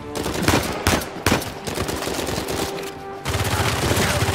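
Rapid bursts of automatic gunfire from the Uncharted 4: A Thief's End video game, loud and close, with sharp repeated shots in quick clusters and a sustained volley near the end.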